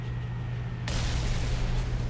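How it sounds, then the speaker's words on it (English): An 800 kg bomb blasts in the air combat game War Thunder, a sudden broad roaring burst that swells over steady engine drone and lingers as a rumbling wash. "Look at the new explosions."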